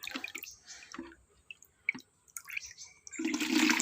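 Rice-washing water is scooped and poured into a watering can in uneven splashes and drips, ending in a louder, sustained gush of pouring. No one speaks.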